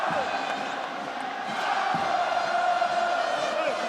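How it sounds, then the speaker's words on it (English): A home crowd at a France versus New Zealand Under-20 rugby World Cup semi-final keeps up a steady, dense roar and chant of massed voices filling the stadium, continuous and distant throughout. "This is now what you have to deal with, the home crowd."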